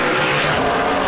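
NASCAR Pinty's Series stock cars roar off at the green flag, a dense, loud, sustained wall of engine noise at full throttle.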